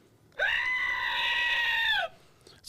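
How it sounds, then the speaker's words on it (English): A screaming pickle novelty toy lets out one loud, sustained squealing scream, close and steady for about a second and a half, then cuts off sharply with nothing but faint background around it. "this is the yodeling pickle and this is the screaming pickle. We'll use the scream."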